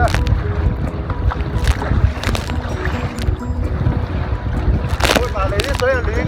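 Wind and waves at sea beat against a fishing boat: a steady, heavy rush of gusting wind and splashing water, with buffeting on the microphone and scattered louder bursts throughout.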